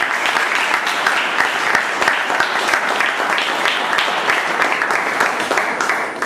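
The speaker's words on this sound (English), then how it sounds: "keep those applause roaring" Steady, loud audience applause at a show, dense continuous clapping from a large crowd lasting the whole stretch with no pause.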